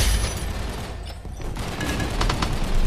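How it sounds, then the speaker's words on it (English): Fusion rifle firing in the VR shooter Gun Raiders, a burst of loud, close, crackling energy shots with sharp bright pulses over a busy noisy background. "I hear the fusion rifle."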